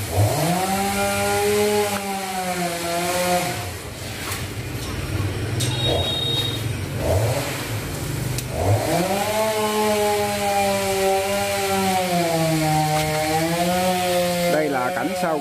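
A chainsaw cuts through a tree trunk while trees are cleared in a temple courtyard in Ho Chi Minh City. The loud engine drones steadily and its pitch rises and sinks as the blade bites and eases, with voices faintly underneath.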